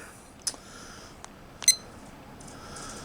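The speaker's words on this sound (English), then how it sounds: "let's start the timer here" A cooking timer being started beside a smoker of pulled pork gives a few short, thin electronic beeps, spaced apart and faint against quiet background hiss.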